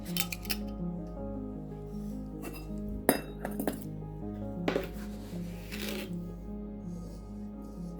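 Sugar poured and spooned into a glass jar of clove spice mix, giving crisp granular rustles and sharp glassy clinks in short bursts over a steady low background hum, with no voices.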